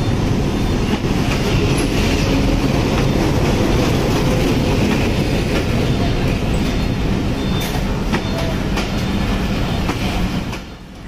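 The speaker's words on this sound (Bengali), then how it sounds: "ঠিক তেমন একটি ট্রেন হচ্ছে মহানন্দ এক্সপ্রেস।" The Mohananda Express (Mahananda Mail) train runs along the rails with a loud, steady rumble and a rhythmic clickety-clack of wheels that keeps up throughout and eases slightly at the end.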